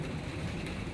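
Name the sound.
rain falling outdoors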